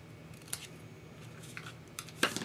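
Scissors trim sticky strip on a vellum pocket card in two quick snips, a faint cut early and a louder crisp snip near the end, over a quiet room.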